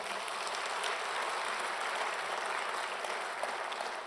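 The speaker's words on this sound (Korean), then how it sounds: "우리 한번 다시 한번 우리 한번 박수 한번" A Korean church congregation applauds during a Good Friday sermon on Christ's death, a full, evenly sustained rush of many hands clapping from start to finish with no talk over it.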